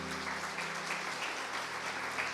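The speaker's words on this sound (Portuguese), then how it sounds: "Vamos aplaudir Jesus." A church congregation applauds in worship, a moderate, even patter of many hands, fairly soft overall, with a low sustained tone humming beneath it throughout.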